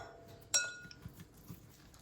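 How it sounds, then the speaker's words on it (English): Sourdough dough for a double chocolate chip loaf tossed into a hot cast iron Dutch oven, giving one sharp metallic clink and clatter at the drop, then a few faint knocks and quiet handling sounds. "I'm just gonna throw this dough into my hot Dutch oven."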